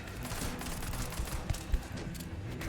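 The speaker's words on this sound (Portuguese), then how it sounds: "Atira nele, André!" Gunfire in the video game Starfield, a burst of scattered shots and thuds at moderate level over a busy game soundscape, with no talk.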